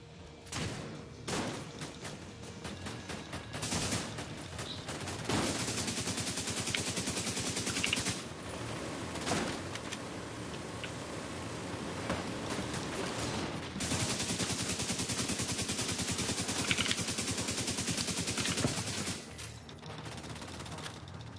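Sustained bursts of minigun fire rattle loudly in the shooter game The Division 2, with rapid continuous firing broken by brief pauses and sharp shots, accompanied by mechanical clatter.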